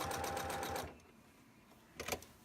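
A sewing machine stitching in the ditch runs in a quick, steady rhythmic burst for under a second, falls quiet, then gives one short stitching burst near the end.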